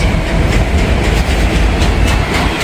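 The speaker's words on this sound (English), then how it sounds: "I know it's an Autorack train, and these are kind of boring sometimes." A BNSF autorack freight train rolls past close by on a spring day, a loud, steady rumble with rhythmic clickety-clack of wheels over rail joints and no voices.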